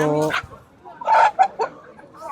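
Live chickens at a Bangla bazaar market in Dammam, Saudi Arabia, cluck and squawk in a few short, fairly close bursts, with a brief voice or crowing-like call at the start.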